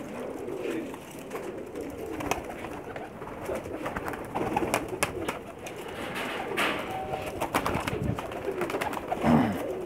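Pakistani pigeons coo repeatedly at close range, their soft, throaty calls rising and falling over rustling and scattered bird noise.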